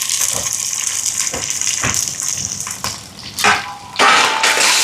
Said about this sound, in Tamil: இப்போ வெங்காயம் எல்லாம் வதங்குது பாருங்க